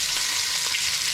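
About a kilogram of salted oxtail browning in beef fat in a frying pan, a dense, even sizzle of hot fat that stays loud and close for the whole moment, with no voices.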